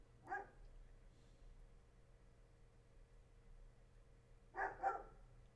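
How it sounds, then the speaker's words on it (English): Dog barks from a scene in the James Bond film Casino Royale: two short bursts, one at the start and a double bark near the end, moderately loud against a low steady hum. "There's the dog again."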